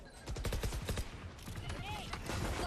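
Rapid rifle gunfire crackles through a Valorant esports match, several dense bursts and single shots packed together, heard under a caster's talk and game effects.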